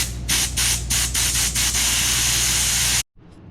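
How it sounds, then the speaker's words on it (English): Compressed air from an air hose blasts through cleaned fuel injectors from a Cessna 310's IO-470-D engine, a loud steady hiss with several rhythmic pulses near the start, cutting off abruptly into near silence at the end. "stick the air hose into the tip right here and just dry them out, shoot air through them until they dry out"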